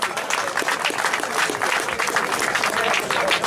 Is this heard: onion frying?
no